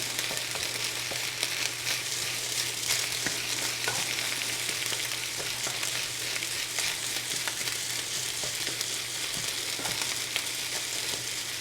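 Egg being stirred into hot food in a low pot, with a continuous loud sizzle and crackle of frying under frequent scraping stirs, close and steady throughout.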